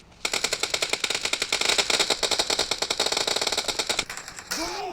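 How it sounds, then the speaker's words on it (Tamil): Rapid, loud bursts of shotgun fire in the BGMI mobile game, a dense rattling run of shots for about four seconds before a short electronic tail. "இது வந்து ஒரு கைண்ட் ஆஃப் ஷார்ட் கன் துப்பாக்கி. பார்ப்போம் ஏதாச்சும் சுட முடியுதான்ட்டு."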